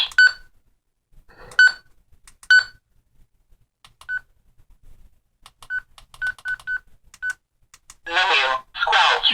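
A series of short electronic menu beeps from a Baofeng BF-T1 handheld radio, some single and some in quick clusters, sounds between pauses, followed by a brief burst of talking.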